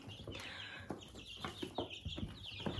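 Young chicks cluck and peep softly in a small group, with scattered rustling as they pick at dry grass and hay; the sound is faint and continuous with no talking.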